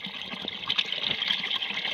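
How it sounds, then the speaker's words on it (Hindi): Cold tap water runs steadily while potatoes are washed, a continuous close splashing stream with no talking. "बहुत ही ठंडा पानी है, बहुत मज़ा आ रहा है"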